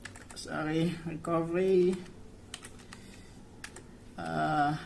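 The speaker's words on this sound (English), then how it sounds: "We type cd to navigate to Recoveryimage." Brief soft keystrokes on a computer keyboard tap between stretches of a voice talking, entering a command in a recovery menu.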